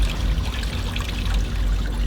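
Water runs from a VIA Rail train bathroom sink in a steady, close splashing trickle, mixed with low rumbling from the moving train.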